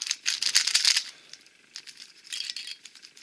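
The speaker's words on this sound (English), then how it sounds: "there's a bit of spring noise here" Bursts of bright rattling clicks from a magnetized mechanical keyboard switch being pressed in a Magnetizing the MF3RS2 session, two clusters of rapid close taps with a faint springy ring between, no talking.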